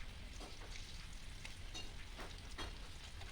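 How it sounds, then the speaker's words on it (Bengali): Potatoes fry in hot oil in a pan with a continuous crackling sizzle, while a utensil scrapes and turns them now and then, close and steady. "তো আলুগুলোকে আমি ভালো করে উল্টিয়ে পাল্টিয়ে দিচ্ছি"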